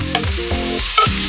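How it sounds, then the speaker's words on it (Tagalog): Onion sautéing in hot cooking oil in a pan for a Filipino-style shakshuka, a loud close sizzle and crackle with stirring scrapes throughout, no voices. "maglagay ng mantika. Maggisa ng sibuyas,"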